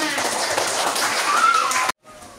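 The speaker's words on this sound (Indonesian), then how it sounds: "Anak-anak, tepuk tangan untuk kita semua" Children in a classroom clap together in a dense, steady burst of applause lasting about two seconds, then it stops abruptly into near silence.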